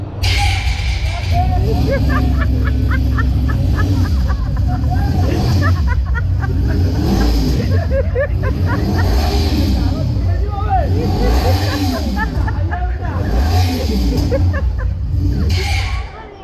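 On stage at an Odia jatra comedy show, a voice imitates a car starting, sounding its horn and speeding off, a loud continuous vocal engine drone with rising and falling whoops and honks.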